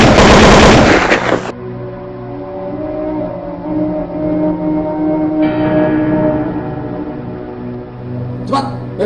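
Gunfire in a dramatic film scene, where an officer orders soldiers to shoot a general: a loud dense burst at the start cuts off, leaving a ringing bell-like tone and low rumble, then a faint rattle near the end.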